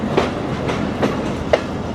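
A Mongla commuter train rolls into Noapara railway station in Jessore with a loud, rhythmic clickety-clack from its wheels. Periodic clunks repeat about every half second over a continuous rumble.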